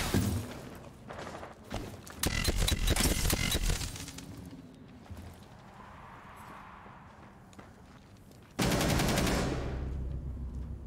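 Gunfire in a video game: rapid bursts of close automatic fire in the opening seconds, a quieter lull with scattered shots, then another loud sustained burst near the end.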